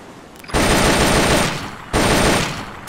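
Assault rifle fire at a Metal Gear Solid shooting range: two loud, sustained bursts of rapid automatic shots, the first lasting about a second, the second starting shortly after, with no voices.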